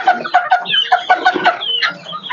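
Native country chickens, a mother hen with her chick, cluck and chirp close up in a quick, continuous string of calls, with no talking.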